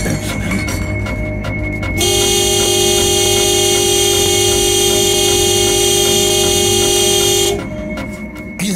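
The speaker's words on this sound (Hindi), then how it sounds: "ऐसे हॉर्न क्यों बजा रहे हो?" A steady, loud car horn blares continuously for several seconds, holding one tone before cutting off, with engine rumble underneath.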